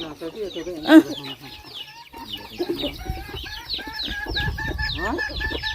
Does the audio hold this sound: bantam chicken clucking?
yes